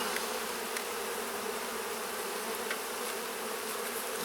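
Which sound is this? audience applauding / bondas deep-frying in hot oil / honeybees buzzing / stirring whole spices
honeybees buzzing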